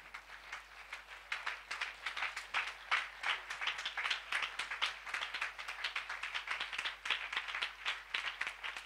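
A church congregation claps together in steady, dense applause during a sermon, the sound quiet and somewhat distant, with only a faint trace of voices underneath.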